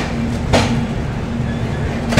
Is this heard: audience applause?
no